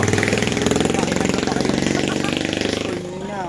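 A motorcycle engine runs close by with a loud, steady, rapid pulsing chug that eases slightly toward the end.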